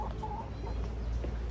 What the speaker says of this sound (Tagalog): i-check din natin yung ating mga manok na alaga